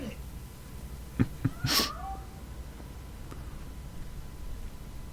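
A cat in the video game Robocop: Rogue City gives a short meow, a brief rising cry heard once amid a few quick clicks, with quiet background ambience and no talking.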